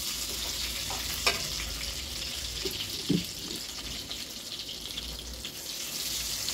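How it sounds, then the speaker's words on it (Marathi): Water is poured into a spicy sesame eggplant curry as it sizzles in the pan and is stirred, giving a steady frying hiss with a few scrapes and splashy knocks. "आता वांग्याला थोडंसं फिरवून घ्या आणि याच्यात ऍड करा आता पाणी"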